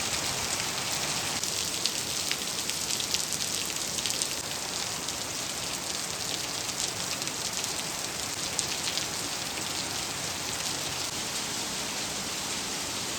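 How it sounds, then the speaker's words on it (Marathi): Heavy rain pounds down outside a home in the Konkan region, a loud, dense and unbroken roar of drops hitting surfaces that lasts the whole time with no talk. "जबरदस्त पाऊस चालू झाला"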